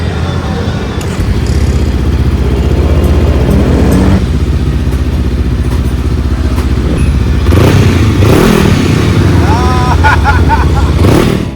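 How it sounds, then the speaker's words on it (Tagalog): A motorcycle fitted with a newly installed aftermarket muffler idles loudly with a deep, steady burble, then is blipped into several sharp revs. It sits close by at a motorcycle shop, with speech-like voices mixed in. "nagpa-install tayo ng muffler at para na rin magkaroon ng konting angas ang tunog ng ating motorsiklo"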